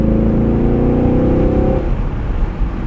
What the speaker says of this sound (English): All right, rev match is on.